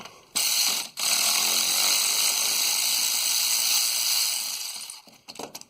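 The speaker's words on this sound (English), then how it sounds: "That should come out with my electric ratchet" Battery-powered electric ratchet spinning a bolt out during a front differential replacement on a 2005 Dodge Dakota, a loud steady mechanical whir with rapid clicking that runs for about four seconds after a brief start, then stutters off.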